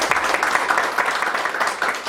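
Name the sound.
audience applause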